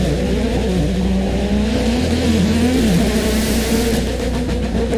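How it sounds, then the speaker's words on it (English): A rally car engine held high against its rev limiter, a loud, steady buzzing drone with slight wavering pitch, heard from close by with no voices. "So you can hear he's bouncing off what would sound like the rev limiter"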